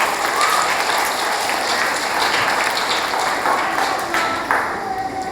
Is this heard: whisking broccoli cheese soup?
no